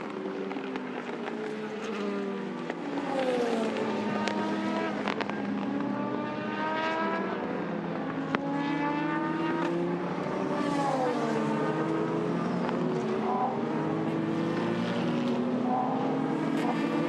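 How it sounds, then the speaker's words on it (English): A race car from the 4 Hours of Le Castellet, the number 9 car in the European Le Mans Series, driving slowly back to the garage. Its engine drones steadily with shifting tones, overlapped by other passing cars, loud and continuous with no talk. "So number 9 car making its way back slowly."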